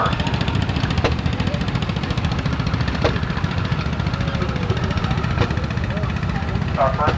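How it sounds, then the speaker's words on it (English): A restored Gibson tractor with an air-cooled engine runs at a steady low chug at an early-day tractor and engine show, with a rapid rhythmic pulse throughout, a few clanks, and faint voices from the crowd. "Beautifully restored Gibson tractor, the air-cooled engine on it"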